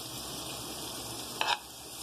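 Butter sizzles in a pan on a gas stove with a steady, soft hiss, broken by one brief louder crackle or scrape partway through.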